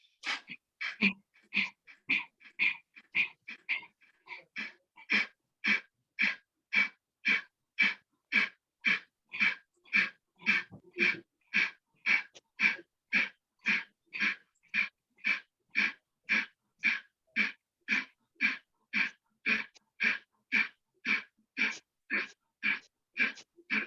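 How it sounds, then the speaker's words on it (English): Kapalbhati yoga breathing: a long, even series of about forty sharp, forceful nasal exhalations, each a short puff at a steady quick rhythm, close and clear with near silence between, slightly faster and irregular at the start. "and you go down and look up and do Kapalbhati for 40 times"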